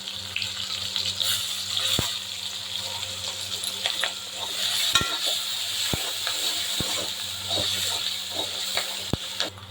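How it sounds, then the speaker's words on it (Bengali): Chopped onion and green chili fry in hot oil tempered with whole cumin and whole garam masala. A constant hissing sizzle is punctuated by sharp, scattered spatter pops and clicks from the pan, with no speech. "ফোড়ন হয়ে গেছে, দিয়ে দেবো কুচনো পেঁয়াজ আর কাঁচা লঙ্কা।"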